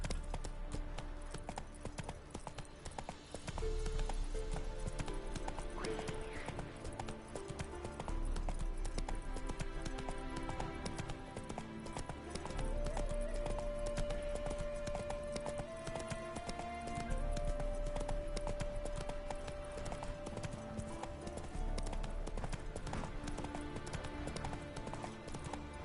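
Horse hooves clip-clop steadily in The Witcher 3 video game, a continuous rhythmic trot under a bed of game music and ambience, holding its even pace throughout.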